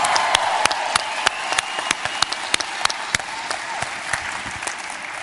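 An audience at an onstage conversation with Stephen King applauds loudly, a dense steady wash of many hands clapping close by with scattered sharper claps throughout.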